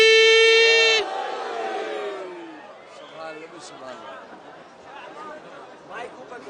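A crowd at a Shia religious celebration in Karbala chants the Naara-e-Haidari slogan together, a dense roar of many voices shouting in rising, rhythmic bursts after a long held tone fades out.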